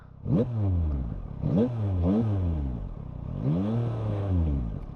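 A Yamaha motorcycle engine, either a 2024 Tracer 9 GT+ or an MT-09, revs repeatedly as the throttle is twisted. Several rising whines climb and fall in pitch, loud and close, with no speech.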